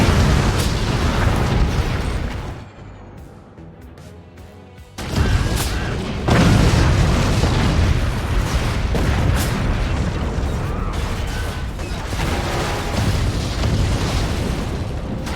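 Cannon shots burst and boom repeatedly in a Forts RTS battle, dense loud explosions rolling almost continuously, with a brief quieter gap before the barrage resumes.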